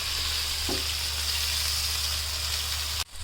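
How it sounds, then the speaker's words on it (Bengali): Steady hissing sizzle of ginger and garlic frying in hot oil with onion, close and continuous, with a brief tap near the start and an abrupt cut at the end. "আদা রসুনটা একটু ভাজা হোক"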